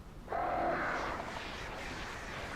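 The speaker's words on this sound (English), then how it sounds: "Birds." Birds caw in the video game Alan Wake, a sustained harsh cawing burst that starts abruptly and then fades into a steady background wash.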